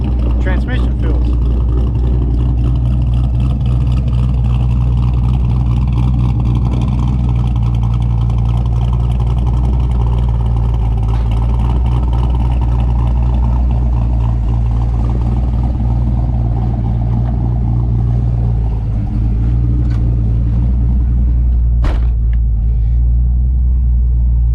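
A 1994 Ford Mustang Cobra with a newly installed T5 manual transmission drives along, its engine giving a steady loud low rumble throughout with mild revving, and a voice talks briefly over it.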